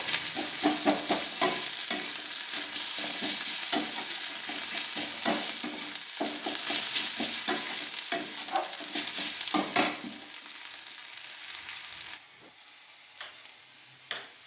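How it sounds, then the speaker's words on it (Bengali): Spice paste fries in a pan for a cauliflower and fish curry, a soft crackling sizzle with repeated spatula scrapes and taps that thins out toward the end. "একটু মশলাটা ভাজা ভাজা করে নেবো।"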